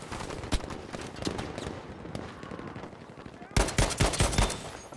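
Sharp gunshots from a Gewehr 43 rifle in the video game Battlefield V crack out at irregular intervals, with a louder burst of shots near the end.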